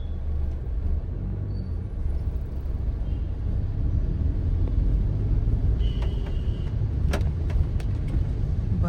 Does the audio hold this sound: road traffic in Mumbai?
yes